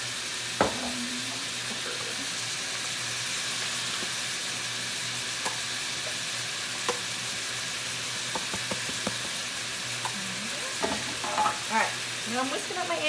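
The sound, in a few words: stir frying shrimp and quinoa fried rice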